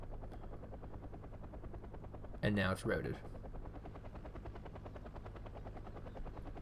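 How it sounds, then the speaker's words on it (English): Military helicopter in the Wargame strategy video game, its rotor producing a steady rapid chopping throb throughout, with a brief burst of gunfire midway and someone commentating over it. "This, of course, is a very key helicopter."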